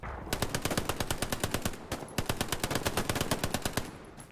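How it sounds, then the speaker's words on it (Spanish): Rapid automatic gunfire in a squad-based shooter video game, two loud sustained bursts of evenly spaced shots separated by a brief pause, with no talking over them. "Acaba de dispararle a Velero Ponte y no le ha dado nada"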